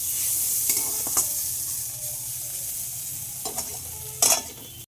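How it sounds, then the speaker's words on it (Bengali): Bitter gourd frying in a home kitchen pan gives a steady low sizzle, broken by a few brief utensil stirs and scrapes, with no one speaking. "তো ওদিকে উচ্ছে ভাজাটা বসিয়ে দিয়েছি"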